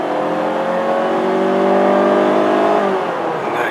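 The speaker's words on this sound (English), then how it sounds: "a great exhaust tone too" A Mazda 3 engine and exhaust accelerate hard on the road, a loud, smooth tone climbing steadily in pitch through the gear, heard from close by with no talking.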